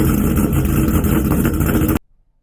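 A modified 2014 Dodge Ram fourth-gen truck with a 6.4 Hemi V8 rumbles steadily at close range, a loud, dense low-end engine drone that holds for about two seconds before cutting off abruptly into silence.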